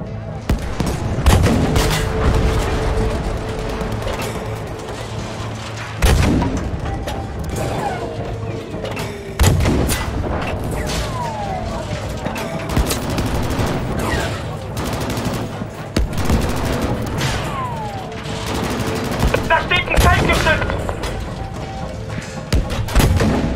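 Battlefield 5 battlefield combat with repeated heavy booms and bursts of gunfire in the campaign's final Tiger tank mission, loud throughout with sharp blasts at intervals, a voice speaking under the noise.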